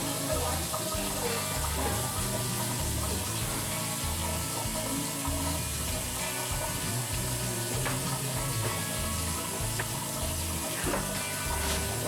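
Water gushes from a newly installed Moen faucet in a steady, loud, unbroken rush that fills the whole stretch, with no voices over it.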